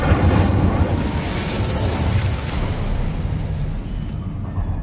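The Incendio fire spell in the video game Hogwarts Legacy erupts as a dense, roaring burst of flame and rumble, loud and close, sustained for about five seconds before thinning slightly at the end, with no voices.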